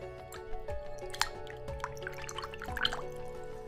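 A voice mimics splashing water in a bathroom setting, producing wet dripping, squishing mouth sounds in irregular bursts, close and moderately quiet.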